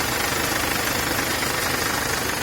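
A Mercedes-Benz Sprinter van's diesel engine runs loud and close, a dense, steady clatter with rhythmic knocking and no voices.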